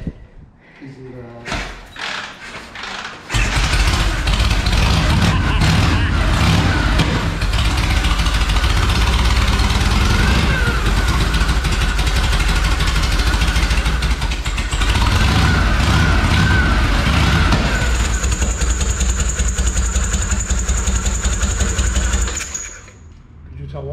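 Harley Panshovel motorcycle engine kick-started and running, a loud close rumbling idle that holds steady for about twenty seconds before cutting out, with a high whine late in the run. People talk briefly around it.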